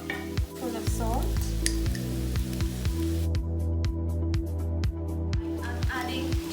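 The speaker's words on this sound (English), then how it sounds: "Potatoes in now, and these will like gently fry on a slow flame" Thin-sliced potatoes fry gently in a pan over a low flame, a steady soft sizzle with occasional stirring scrapes and faint drips, close and continuous throughout.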